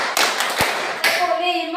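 A few separate hand claps sound close by during a classroom counting clap game, about three sharp claps spaced apart, with a voice speaking around them.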